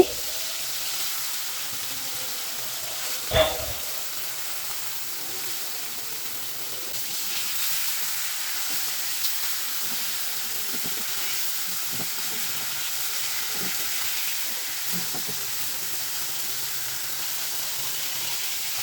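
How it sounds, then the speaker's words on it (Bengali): Rohu fish pieces fry in mustard oil with a constant soft, even sizzle throughout, broken once by a single brief knock early on. "এখন রুই মাছগুলোকে ভেজে নিচ্ছি।"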